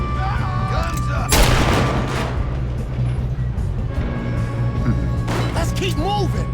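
Gunshots and booming blasts erupt in a Red Dead Redemption 2 shootout, a dense burst of fire around the middle followed by scattered shots, with game music and voices talking throughout.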